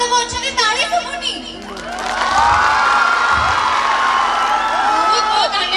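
A crowd at a college silver jubilee program roars into loud cheering and shouting, with children's voices among it, swelling after a brief musical passage and holding steady to the end.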